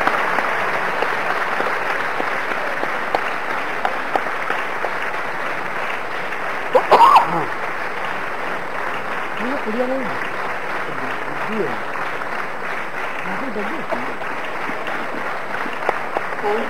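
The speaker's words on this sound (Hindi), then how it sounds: "इन छात्रों ने बड़ी कड़ी मेहनत से उपाधि प्राप्त की है, तालियों से उनका उत्साह बढ़ेगा" Sustained audience applause fills a university convocation hall for Ayush University's graduating students, steady and dense throughout, with a brief sharper burst partway and faint voices underneath.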